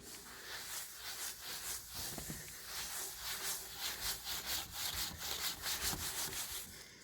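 A rag wipes adhesive off a hardwood surface with lighter fluid, producing a steady, rhythmic rubbing and scrubbing sound in quick repeated strokes, close and fairly quiet.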